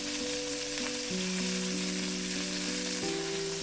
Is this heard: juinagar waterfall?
no